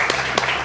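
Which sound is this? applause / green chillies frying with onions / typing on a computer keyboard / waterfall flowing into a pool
applause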